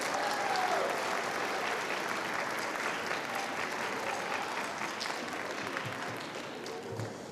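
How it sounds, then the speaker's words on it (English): A school band concert audience claps in a sustained round of applause, a thick, even wash of many hands heard from within the crowd, moderately loud and tapering gently over seven seconds. "If you could give them a round of applause before we start,"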